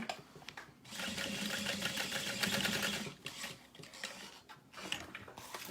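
Sewing machine stitching the lining of a backpack, running in steady bursts of fast rhythmic needle clatter with brief pauses between runs, close and fairly loud with no talking.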